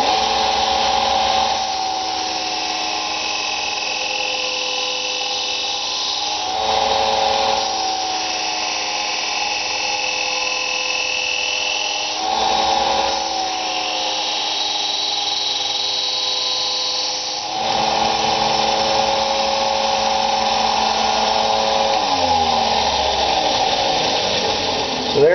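A power sander whirs steadily for a long stretch while building a reef tank sump, briefly dipping and surging several times, with no talking over it.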